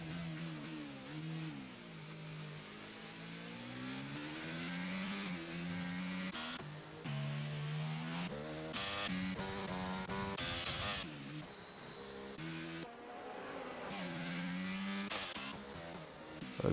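Race cars in a sim racing game at Bahrain run side by side, with several engines revving and shifting in rising and falling pitch sweeps, moderately loud and steady with no talk over them.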